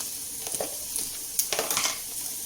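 A spoon stirs karela bhaji, a bitter gourd stir-fry with chili powder, in a hot pan, soft sizzling with brisk scraping strokes bunched near the end, close and steady.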